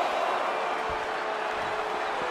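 Broad, steady crowd roar from a virtual WWE 2K20 SmackDown wrestling arena, a continuous wash of massed voices with no distinct chant rhythm standing out, filling the space evenly from start to end.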